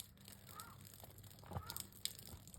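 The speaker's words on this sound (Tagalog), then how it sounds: "Ang ingay talaga ng uwak na yun." Outdoors on a snowy morning, a crow caws twice, faint and distant, against a low background hum.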